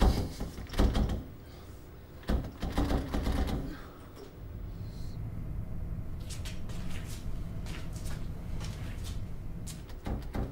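A door forced and rattled without opening: loud clustered bangs and rattling knocks come in repeated bursts, then quieter intermittent clatters over a low background rumble.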